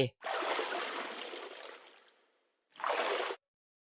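In the Honkai Impact 3 video game, a character wades into the sea with a long soft watery rush, a brief pause, then a second shorter slosh, close and fairly quiet.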